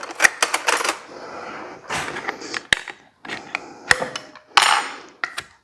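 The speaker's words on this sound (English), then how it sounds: "If I can get the can open." Opening a 20-ounce can of pineapple chunks produces a run of sharp metallic clicks, taps and scraping bursts in uneven clusters, close and fairly loud, with brief quiet gaps between efforts.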